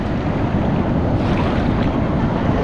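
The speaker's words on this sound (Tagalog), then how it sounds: "Ganun din kalalakas ang alon eh" Strong ocean waves at a beach in Siargao, a dense, steady roar of surf mixed with wind rumbling against the microphone, loud and continuous with no talking.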